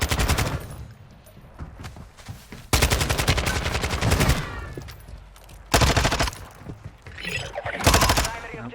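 Rapid bursts of automatic gunfire from a Lachmann 556 rifle in Call of Duty Warzone 2.0, loud rattling strings of shots in several long volleys, with voices talking intermittently.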